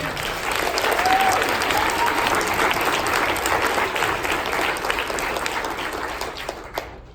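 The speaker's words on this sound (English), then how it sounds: "Let's give ourselves a round of applause." An audience at a trans youth summit keynote gives a sustained round of applause, dense clapping that holds steady for several seconds before starting to thin toward the end.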